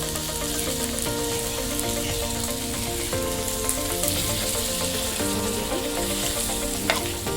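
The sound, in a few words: fish and curry leaves frying after a little water is added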